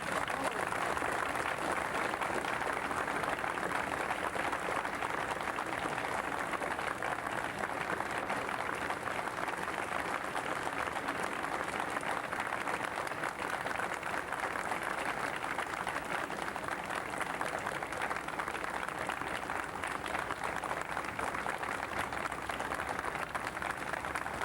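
Continuous audience applause at a 1985 retirement celebration, an even, moderately distant roar of clapping that holds steady for over twenty seconds.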